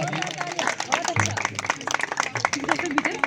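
Applause at a school World No Tobacco Day prize-giving for a painting competition, with scattered claps mixed into loud chatter and voices nearby.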